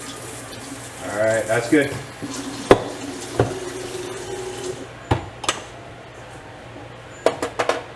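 Tap water sprays onto a zucchini being washed at a kitchen sink, a soft running splash under a child's and an adult's voices, with a few sharp knocks and clinks of kitchenware near the end.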